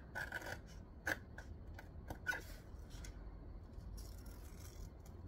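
Blunt-tipped scissors snip through fabric for a handmade echidna travel bag, a quiet indoor series of several crisp cuts with soft rustling in between, close and fairly faint.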